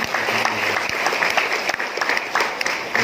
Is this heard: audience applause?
yes